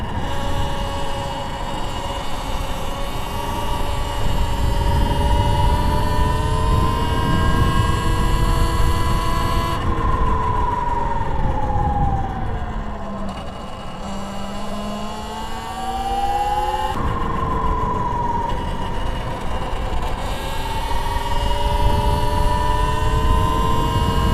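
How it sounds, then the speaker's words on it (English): High, futuristic electric motor whine from a Talaria xXx Pro electric motorbike that glides down in pitch as regenerative braking slows it, then climbs again, over steady road and wind noise. "I do like the sound of this thing with regen. Got a futuristic noise."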